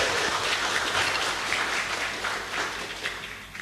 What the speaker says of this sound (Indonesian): Kita berikan aplaus kepada pasangan calon nomor urut 2.